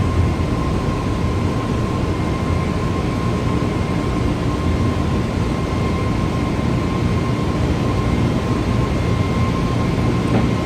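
An Easyjet A320neo at Southend makes its takeoff roll in Microsoft Flight Simulator 2020. The engine roar is loud and steady with a constant whine, holding at full power for the whole run down the runway.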